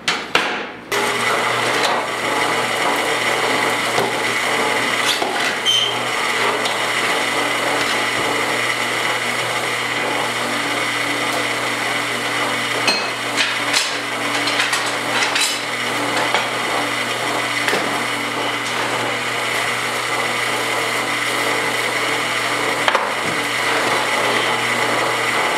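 A power drill bores a half-inch hole through the door pillar of a 1972 Ford pickup, a loud continuous whine with grinding metal chatter lasting the whole stretch, close up and with no talk.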